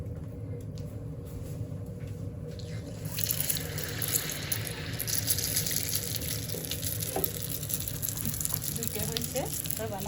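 Rice-flour oil pitha cakes frying in hot oil in a home kitchen, a steady hiss and crackle running throughout, louder in the second half, with faint clatter and a voice speaking now and then.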